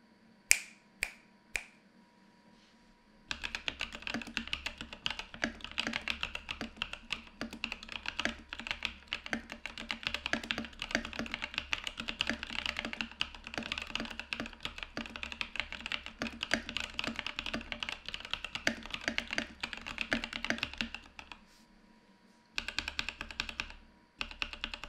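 Epomaker NT68 wireless mechanical keyboard typed on rapidly, a dense stream of crisp clicky keystrokes lasting about twenty seconds, preceded by a few isolated taps and ending with a brief final burst.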